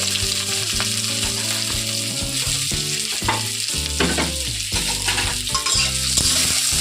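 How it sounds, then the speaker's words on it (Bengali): Onion and green chilli fry in oil in a wok with a bright, constant sizzle and occasional stirring clatter, sounding beneath steady background music, with no voices. "খুব ভালো করে একটু তেলে ভেজে নেব পেঁয়াজ আর লঙ্কাটা"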